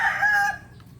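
Farmyard chickens clucking as a rooster crows, a loud close cock-a-doodle-doo in the first half second that drops off sharply, leaving faint background.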